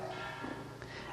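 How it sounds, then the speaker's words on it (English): A bell rings faintly in the distance to call people to lunch, a short soft tone under steady background hiss. "The bell is going."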